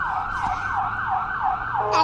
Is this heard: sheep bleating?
no